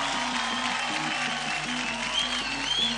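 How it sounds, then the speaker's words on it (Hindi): A television dance-show studio audience claps loudly for the skippers, continuous applause over a steady rhythmic musical beat. "एक बार जोरदार तालियां हो जाए हमारे स्किपर्स के लिए"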